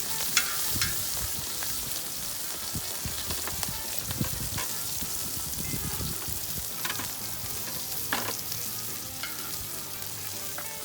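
Shallots sizzle and crackle steadily on a very hot discada, a dense, even frying hiss with occasional louder pops and stirring scrapes.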